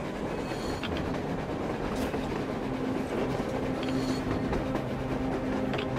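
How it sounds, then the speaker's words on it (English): In the video game Metro Exodus, a train rolls along rails on the surface with a steady, loud rumble and faint rhythmic clatter, continuous and unbroken throughout. "A train! A damn train on the surface!"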